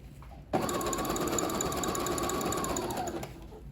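A sewing machine stitches ruffles onto a stretched sock. It starts abruptly and runs at a steady, fast, close-up whir for about three seconds, then stops.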